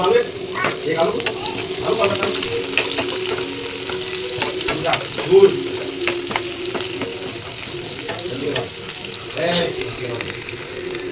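A pan of Maggi noodles with peas and carrot frying and being stirred, a steady sizzle broken by scraping strokes and clinks of the spoon throughout.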